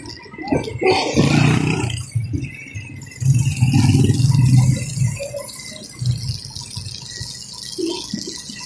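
A motorcycle engine revs and roars in bursts nearby, rising and falling, with rattling and traffic noise around it.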